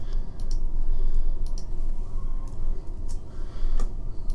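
Computer mouse buttons click during website editing, a handful of sharp, close clicks spaced irregularly over a steady hum.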